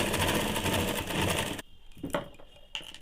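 A sewing machine runs steadily while stitching a folded belt strip for a ladies' pant, a loud continuous whir that stops abruptly midway, followed by a few light clicks and handling taps.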